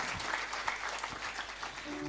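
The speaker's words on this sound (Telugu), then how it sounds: "ఒకసారి ఏసీఎఫ్లకు మనందరూ చప్పట్లతో వాళ్ళకి ధన్యవాదాలు తెలియజేయాల్సిందే" Audience at a pastors' gathering applauding, dense steady clapping from a sizable crowd throughout, moderately loud and continuous.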